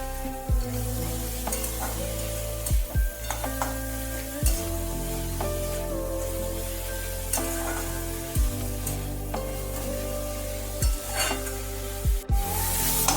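Red amaranth greens fry in a pan with a continuous sizzle, broken every couple of seconds by a utensil scraping and stirring. No one speaks.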